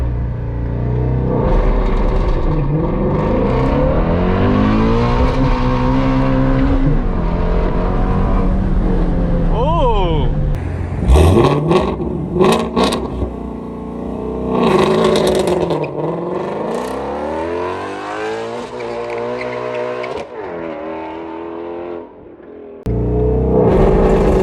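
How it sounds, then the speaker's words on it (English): Close, loud engine of a Ford Mustang GT350 launching in drag mode with a manual clutch, revving hard and climbing through the gears, the pitch rising and falling with each shift and brief drops in between. "we're just gonna go ahead and let go of the clutch,"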